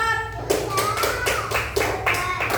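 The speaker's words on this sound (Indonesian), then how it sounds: "Kita beri aplaus lagi untuk kelompok 4." A classroom of students gives applause for a student group, a steady patter of clapping lasting a couple of seconds, fairly close, with a soft murmur of voices beneath.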